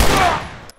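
A single loud gunshot rings out in The Last of Us Remastered, a sharp close crack with a brief decaying tail, fired during a power plant ambush.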